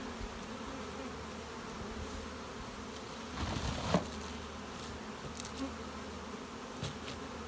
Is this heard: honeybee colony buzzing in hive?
yes